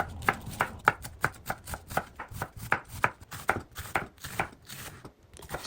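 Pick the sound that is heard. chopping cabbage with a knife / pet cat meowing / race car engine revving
chopping cabbage with a knife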